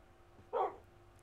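A single short dog bark from a Minecraft dog, one clear yelp-like burst rising briefly out of quiet background game ambience.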